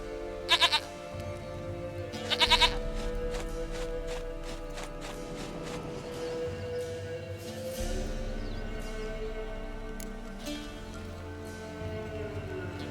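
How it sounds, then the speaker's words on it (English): A goat in The Witcher 3: Wild Hunt game gives a couple of short, quavering bleats near the start, over a continuous game soundscape of ambient tones and faint footsteps. "Goat of mine, dearest, sweetest goat."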